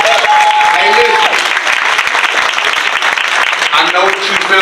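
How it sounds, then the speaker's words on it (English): Steady crowd applause at a school district town hall meeting fills the clip, dense and loud throughout, with voices and a whistle-like tone rising over the clapping near the start and end. "Somebody give a round of applause."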